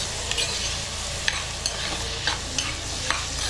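Small onions and tomatoes sautéing in a pan, a dense steady sizzle broken by regular scraping stirs, close and with no talk.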